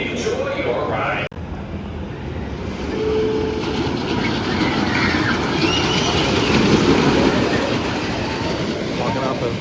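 A Viper wooden roller coaster train at its station in Six Flags Great America, a loud rumbling, rolling rush with clattering wheels that builds and stays steady, with a sharp click near the start.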